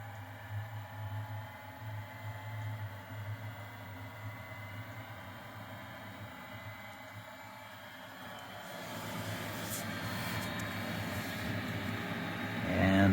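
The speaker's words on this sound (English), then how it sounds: "when it does that and the igniter is warm and it starts spitting the diesel in there, it sounds like a little mini turbine jet engine" A diesel cab heater in a vintage Ford C8000 COE truck ignites: a steady low mechanical hum gives way to a rising, brighter whooshing whine that swells louder toward the end, like a small turbine spinning up.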